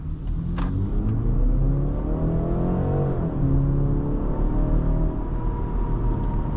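A 2025 BMW X3 30 xDrive accelerates hard, its engine droning loudly from inside the cabin with rising pitch that dips at a gear shift and then climbs again.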